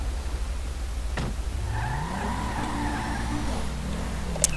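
A police car in the video game LSPDFR pulls away, its engine tone rising steadily as it accelerates over a constant low rumble, with a couple of sharp clicks and no talking.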